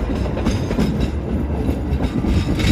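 CC203 diesel locomotive-hauled train rolling past on rails, a loud, close, continuous rumble with rhythmic clickety-clack of wheels over rail joints.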